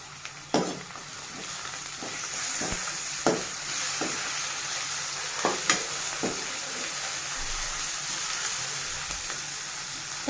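Ginger garlic paste sizzling and frying in a pan for a bitter gourd fry, a steady hiss throughout broken by sharp spoon or spatula taps and stirring scrapes, close and alone with no talking.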